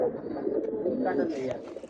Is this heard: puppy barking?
no